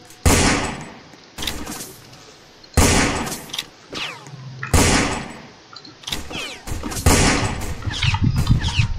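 Video game gunfire, loud bursts of rapid shots and single cracks in irregular clusters, with short gaps of quiet between volleys and a mechanical clank mixed in.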